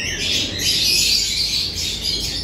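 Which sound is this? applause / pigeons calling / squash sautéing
pigeons calling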